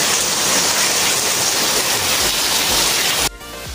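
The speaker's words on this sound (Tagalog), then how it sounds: "nung nakaipon ulit siya ng ulan is ayun, inulan ulit dito sa amin" Heavy rain falls outside with a dense, loud, continuous hiss that cuts off abruptly near the end.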